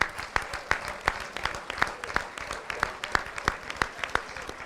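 A small audience at a joint Rotary-style fellowship claps rhythmically for visiting district guests, sparse, in-time handclaps repeating at a steady beat for several seconds.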